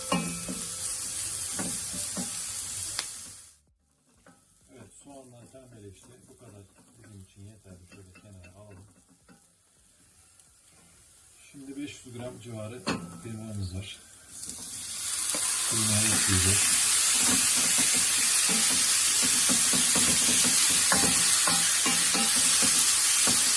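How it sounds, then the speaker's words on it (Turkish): Onion and garlic fry in a hot pan, with a loud sizzle at the start, a quieter middle stretch broken by stirring clatter, then a steady, louder sizzle toward the end. "Soğan ve sarımsağı soğanlar pembeleşinceye kadar böyle kavuracağız."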